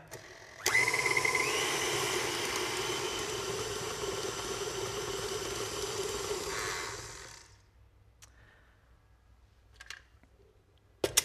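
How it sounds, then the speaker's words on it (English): An electric mixer beats butter and sugar on medium speed with a steady, loud whirring hum lasting about seven seconds before it winds down, followed by faint clinks. "we're going to beat that on medium speed until we see a nice, fine, fluffy white mixture"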